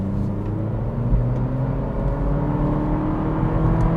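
A 2025 Acura Integra A-Spec with a turbocharged engine accelerates on the road. A loud, steady engine drone with a deep rumble fills the whole stretch without a break, and there is no talking.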